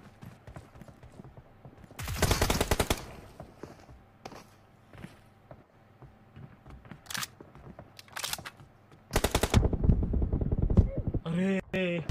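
Bursts of automatic gunfire from a mobile shooter game's team deathmatch come in several short, loud volleys separated by quieter stretches, with faint footsteps and game effects between them.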